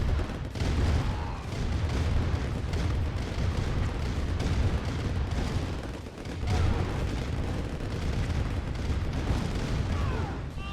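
Dense, continuous rumble of explosions and booming artillery fire as a base is destroyed in an eight-player free-for-all match of Command & Conquer Red Alert Remastered, with tanks and a cruiser firing, loud and sustained throughout.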